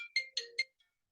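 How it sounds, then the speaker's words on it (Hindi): A phone ringtone for an incoming call plays a short run of three bright electronic chirps, close and clear, then falls silent. "कश्मीर मुझे जाना है कल और वहां से फोन आ गया"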